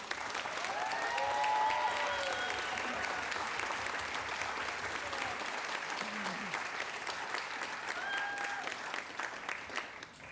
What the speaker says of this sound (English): please join me in congratulating these extraordinary students once again with your applause.